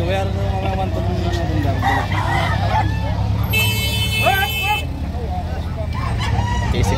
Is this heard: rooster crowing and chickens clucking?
yes